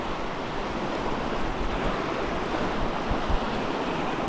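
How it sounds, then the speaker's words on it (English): Rushing river rapids at the big chute on the Milk River as a canoe rides through, a steady, loud broadband roar of churning water close by with no talk. "So that's the big chute on the river."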